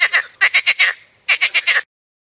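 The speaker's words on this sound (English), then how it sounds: "Frog." A recorded frog croaks in two bursts of rapid, raspy pulses, about five to six calls each with a short pause between, loud and close with nothing else heard.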